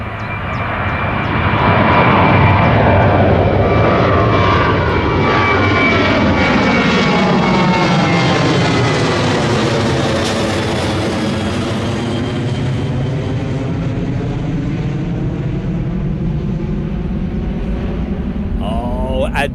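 A fixed-wing aircraft lands on runway 23 right at Manchester Airport. Its loud engine roar holds steady throughout and sweeps in pitch as it passes close by, with a voice faintly audible beneath.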